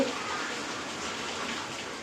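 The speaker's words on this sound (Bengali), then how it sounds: "বাইরে ঝিরিঝিরি বৃষ্টি পড়তেছে" Light drizzling rain outside, a steady soft hiss of fine drops falling continuously, even and moderately faint, with no talk.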